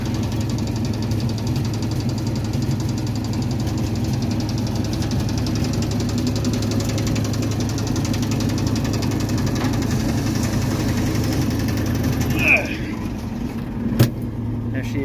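A truck's engine drives a hydraulic pump to raise its dump bed, giving a steady, loud low-pitched engine drone with a regular knocking throb throughout, plus a brief metallic squeal and a sharp clunk near the end.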